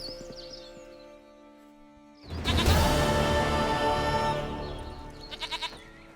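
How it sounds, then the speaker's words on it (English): A goat in The Witcher 3 lets out a loud, wavering bleat that starts abruptly, carries for about two seconds and tails off, followed by a short burst of quick chirps. "Goat of mine, dearest, sweetest goat."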